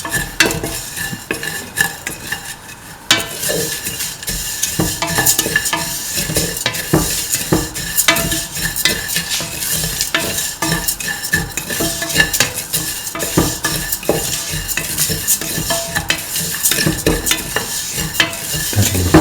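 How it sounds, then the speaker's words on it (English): Vermicelli is stirred in a pan with cardamom and clarified butter, a spoon scraping and clinking steadily against the metal over a soft sizzle. The busy, continuous stirring is close and loud and goes on throughout with no voices. "Thoroughly salt and mix the vermicelli with the cardamom and the clarified butter"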